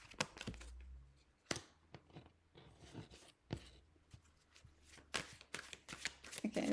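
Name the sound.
shuffling a deck of coaching cards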